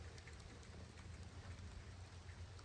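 Rain falls on a farm during the canola harvest season, a steady soft hiss with faint patters and a low rumble underneath, constant and fairly quiet throughout.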